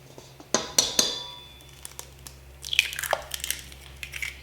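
Eggs cracked one after another into a large bowl of coconut flour, giving sharp close shell taps and clinks, then a wetter cluster of cracks and drips.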